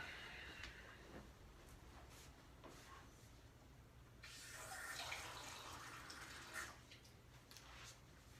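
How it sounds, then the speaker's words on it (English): Water runs from a tap in a steady rush for a few seconds, with small knocks and clinks before it, no talking. "Filling up a glass of water real quick."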